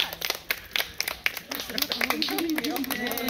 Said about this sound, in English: Let's give Angus and his trainer Sarah a round of applause